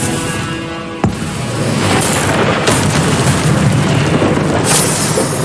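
Confringo explosive spell in the Hogwarts Legacy video game, a sharp crack followed by a sustained rumbling blast, with further bursts and debris rolling on loudly for several seconds.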